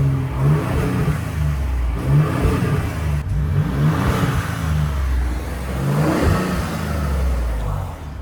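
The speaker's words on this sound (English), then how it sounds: "Already making a sound from the turbo." Ford Raptor truck engine revving in repeated swells, with a mid-range growl rising and easing several times, and a faint turbo whistle riding over the steady drone; no talking.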